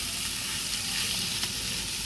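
Coconut masala is added to tempered onions for a shark fish curry, giving a short burst of soft, continuous sizzling and frying hiss with no talking.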